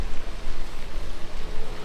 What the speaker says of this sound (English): Rainy streets of Monaco.